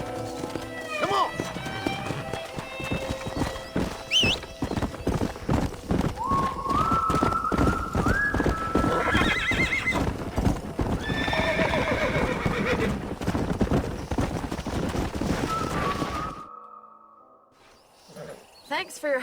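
Horses gallop with rapid, steady hoofbeats and loud whinnies in the Red Dead Redemption video game, close and dense, mixed with voices, then the hooves drop away to near quiet at the end.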